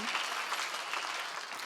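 Congregation clapping during a sermon at a Korean church, a brief, even burst of many hands applauding at moderate distance, with no speech over it.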